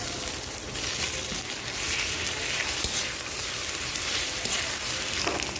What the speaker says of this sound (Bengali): পেঁয়াজ আর রসুন একটু ভেজে নিয়েছি